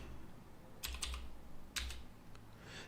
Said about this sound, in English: Let's try typing John.